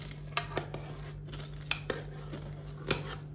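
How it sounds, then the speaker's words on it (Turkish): Scissors snip through crisp baked cheese börek several times, sharp close clicks spaced irregularly over a low steady hum. "Tepsimize çıkaramadığımız için makasımızla kesiyor."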